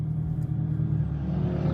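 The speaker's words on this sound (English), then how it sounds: "Turbo diesel." A BMW turbo diesel car engine running close by, a deep steady rumble that swells slightly as it is revved, heard alone with no voices.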